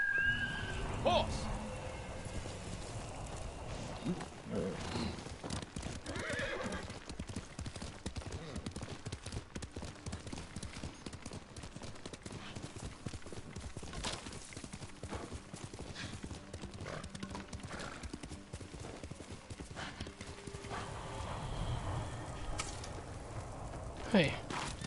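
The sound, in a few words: horse neighing and hooves clip-clopping in Ghost of Tsushima video game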